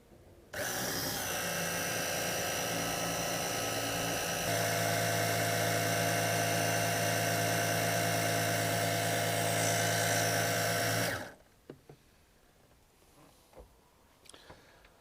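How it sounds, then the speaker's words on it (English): A small 12-volt electric pump pushing diesel through 2 meters of 20mm hose out of a boat's fuel tank, running as a steady close whine for about ten seconds, then cutting off, leaving faint clunks. "What I've got is a little 12-volt pump, 2 meters of 20mm hose, and I've pushed it down in the tank."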